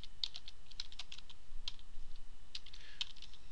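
Typing on a computer keyboard, a quick irregular run of light, close key clicks with a few sharper taps standing out, no voices.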